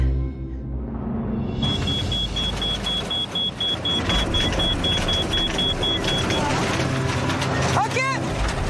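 A car's engine runs and revs as the vehicle pulls away, a loud continuous drone with a steady electronic beep running through it, followed by a brief squeal near the end.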